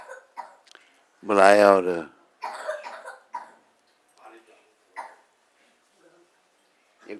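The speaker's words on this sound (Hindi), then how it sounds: "ये लाओ गोली, इससे खांसी बंद हो जाएगी इसकी" A man coughs once loudly and close during a morning Mangal Aarti lecture in Vrindavan, a harsh burst among brief bits of speech in the room.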